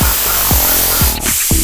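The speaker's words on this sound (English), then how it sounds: "because we're using a contact adhesive, you have to spray both materials" An air sprayer hisses out contact adhesive in short, close, loud bursts, roughly three or four quick sprays in a row.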